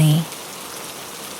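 Gentle rain falls steadily in a soft, even patter after a brief low tone fades at the start, with no voices over it.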